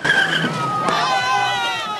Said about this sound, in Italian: le auto sgommano in tutta fretta verso l'ingresso del centro residenziale